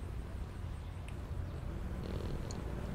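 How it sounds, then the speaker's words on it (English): A cat purrs steadily while being petted in the FNAF Into the Pit video game, a soft continuous low rumble with a faint rhythmic flutter, close and alone with no talking. "You can pet the cat."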